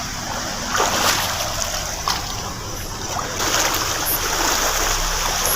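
A river rushes and splashes continuously close by, tumbling over slippery stones, with occasional louder splashes and no talking.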